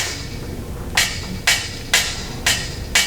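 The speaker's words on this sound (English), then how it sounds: "Driving home the last rivet" A hammer driving a rivet into a spaceship model, an audio drama sound effect: five sharp, evenly spaced metallic strikes about half a second apart, close and clear over a faint background.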